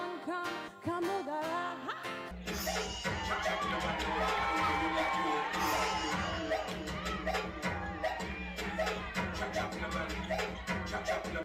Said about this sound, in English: you can hear the crowd really cheering. It's not jeering, it is cheering